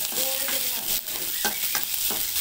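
Onions sautéing in a pan for Tamil mor kuzhambu, a close steady sizzle broken by a few short scraping stirs.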